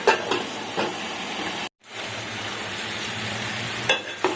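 Chopped tindora (ivy gourd) frying on medium heat in a pan, a close steady sizzle and hiss broken by a brief drop to silence, with a few stirring scrapes.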